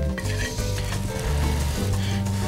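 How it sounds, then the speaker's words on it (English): Mole sauce cooking in a pan, a dense close bubbling sizzle that runs continuously with faint stirring sounds. "I'm gonna turn the heat down a little bit and let this simmer."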